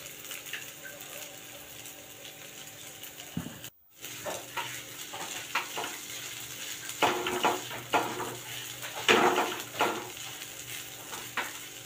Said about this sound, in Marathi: तर या वड्या मी छान कुस्करून घेतल्या. आता या छान परतून पण घेऊयात आपण.